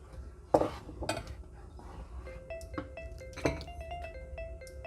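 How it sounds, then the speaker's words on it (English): Stock being stirred into a pot of coconut rice, a couple of clear utensil knocks against the pot, then soft scraping and clinks close by under a low kitchen hum. "And stir."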